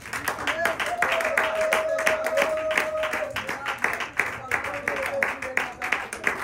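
A church congregation at a Sunday worship service applauding in dense, rhythmic clapping that keeps a steady beat, with voices singing or calling out over the clapping.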